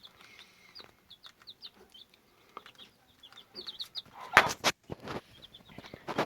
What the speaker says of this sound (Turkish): Şöyle civcivler.